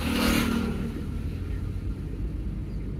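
A learner driver at the wheel of a car during a beginner driving lesson, the engine rumbling low and steady with a brief louder rise at the start, no voices.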